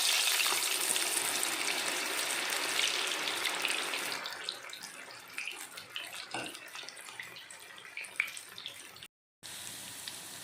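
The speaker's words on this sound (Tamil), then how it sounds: "எண்ணெய் சூடானதுக்கப்புறம் ஸ்டவ்வை மீடியம் ஃப்ளேமில் வச்சுட்டு காலிஃப்ளவரை கொஞ்சம் கொஞ்சமாக ஆட் பண்ணிக்கலாம்." Cauliflower pieces fry in hot oil on a medium flame for Gobi Manchurian, a dense, loud sizzle at first that thins to scattered crackles and pops, broken by a brief gap of silence near the end.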